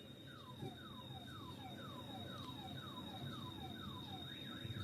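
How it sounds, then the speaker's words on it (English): Russian air defense sirens in Taganrog: a repeating falling whoop-style wail cycling about every half second, faint and distant over a constant high tone and background noise, with a shifting warble at the end. "It sounds like Russian air defense sirens"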